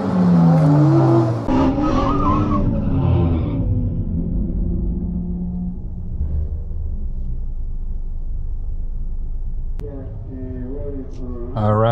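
A 2020 Honda Accord Sport 2.0T races a 650-horsepower Camaro ZL1 on drag radials around a track, with a loud engine roar that settles into a steady drone. Voices speak at the start and again near the end.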